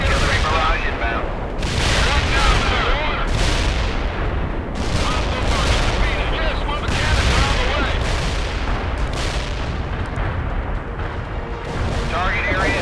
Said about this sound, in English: Artillery barrage inbound.